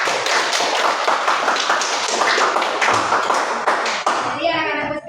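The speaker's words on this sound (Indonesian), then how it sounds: "tepuk tangan untuk Ulfa" Classroom of children applauding a student, brisk close-up clapping in a loud burst that fades near the end as a voice begins speaking.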